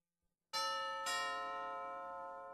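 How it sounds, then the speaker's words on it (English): A doorbell chime rings out loudly after a moment of silence, two bright tones struck in quick succession, then left to ring and slowly fade with no voices. "They go from house to house in their costumes and ring doorbells."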